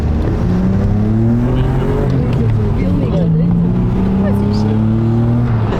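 A BMW E34's engine revs in a garage while the car is being tested and still runs unevenly. Loud engine tones rise and fall, with people talking over them.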